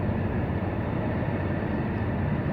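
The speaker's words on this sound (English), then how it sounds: "there's a train going by." A train passing in the distance, heard as a steady, broad low rumble seen from high above, constant and moderately loud with no voices over it.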